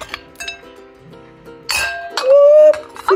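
Glassware on a Christmas table setting gives several bright clinks and rings as pieces touch, one longer resonant ring and sharp near knocks among them, with no talk.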